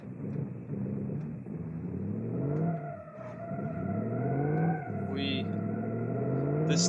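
Engine of a 1950s pickup truck in the BeamNG driving game, a steady revving drone that climbs and falls through gear changes, loud and continuous, with brief speech at one point.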